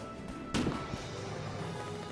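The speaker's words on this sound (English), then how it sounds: "They're even wasting rockets on us." A rocket explodes in the war game Foxhole, one sharp blast over a steady low battlefield rumble, followed by fainter thuds and a lingering din, with no voices.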